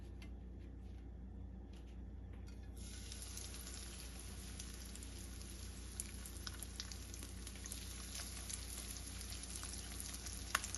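Thin flounder fillets fry in hot oil in a pan, a soft, steady sizzle and crackle that holds quietly throughout with a few small pops and no talk.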